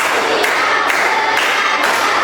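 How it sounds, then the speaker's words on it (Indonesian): A class of students claps in rhythm, about four or five sharp group claps spaced evenly and loud, close by, during a primary school lesson, with no talk over them. "Tepuk 1, tepuk 2, tepuk 3, tepuk 4, tepuk 5"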